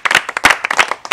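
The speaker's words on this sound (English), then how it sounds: "It means clap for yourself." A class of students in a French lesson claps for themselves: a short burst of close, uneven handclaps in quick clusters that starts and stops within about a second.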